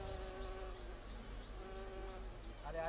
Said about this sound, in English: hives dripping with bees and honey.